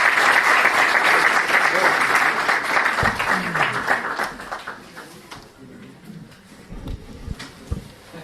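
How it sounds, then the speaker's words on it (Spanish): Audience applause welcoming a guest professor to a talk, a dense burst of clapping from many hands that fades out over several seconds, leaving scattered claps and room noise. "un aplauso para el profesor Cristóbal Noguera"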